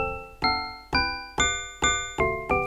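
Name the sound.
modular synth playing random Dorian chords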